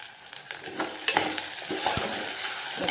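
Potatoes fry in a little oil with green chillies and curry leaves, a steady close sizzle broken by a few scraping stirs of a spoon against the pan.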